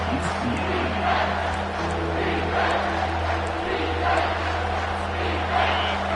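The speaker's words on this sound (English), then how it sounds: "3rd down, and this crowd is bringing down the house." Stadium crowd in the college football video game NCAA 25 roars steadily through a tense third-down play, a dense, continuous wall of cheering with swells of noise and no gaps.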